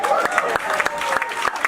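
A stand-up comedy audience claps in a short burst of scattered, sharp hand claps mixed with crowd voices and chatter, fairly close and loud.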